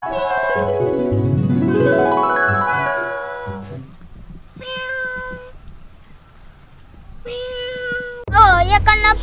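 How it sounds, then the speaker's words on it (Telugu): A cat meows several times, close and clear, in drawn-out and shorter cries with gaps between them, ending in a louder, wavering yowl. A voice can be heard faintly in the background. "పిల్లి ఎక్కడన్నా మియం మియం అంటుంది."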